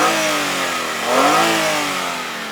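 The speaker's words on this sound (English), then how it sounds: "Let me see where I can rev this thing up so you can hear it." A 2000 Hyundai Sonata GLS V6 engine revs up once and falls back toward idle, loud and close, with a steady hum before and after the rise and no talking.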